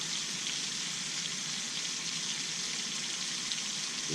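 Hickory smoked bacon fries in a pan at a camp in the Croatan, a loud, continuous sizzle that crackles evenly throughout with no one talking.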